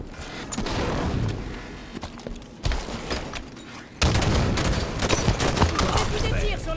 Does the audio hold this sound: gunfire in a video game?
yes